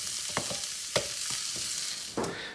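Ravioli filling with celery sautéing in a pan: a steady broadband frying hiss with several sharp stirring clacks and scrapes spaced through, no voices.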